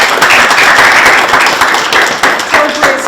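An audience at a housing authority gathering claps, a dense patter of applause close by and continuing throughout, with voices mixed in under it.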